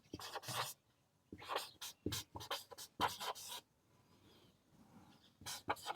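Pen scratching out a Class 10 math solution on paper in short bursts of writing with brief pauses between strokes, fairly close and moderately loud, with no talking.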